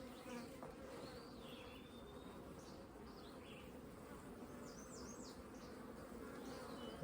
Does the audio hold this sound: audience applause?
no